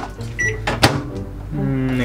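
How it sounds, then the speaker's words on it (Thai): A microwave oven humming as it heats fried omelette rice, a steady drone under a voice, with a sharp click or clunk near the middle. "เดี๋ยวเวฟฮะมันเวฟกี่นาทีนะ"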